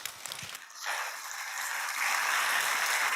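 Audience applause at a lecture hall talk, starting thinly and swelling into a loud, dense, sustained clapping that builds toward the end.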